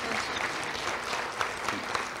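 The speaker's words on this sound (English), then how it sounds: "Ladies and gentlemen, a big round of applause for Shree Saini." Audience applause at a formal honor ceremony in New Jersey, following the announcement of a Miss World first runner-up; steady dense clapping fills the clip with a few sharper claps standing out.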